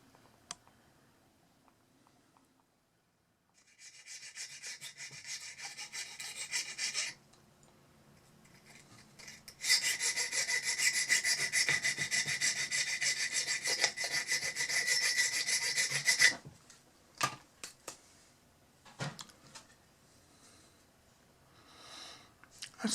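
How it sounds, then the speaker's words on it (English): Close, steady rasping of a file smoothing the rough edges of a drilled hole for an N scale sign in two long bursts, separated by a pause, followed by scattered clicks and taps. "And then I'm filing down the rough edges so that there won't be anything sharp."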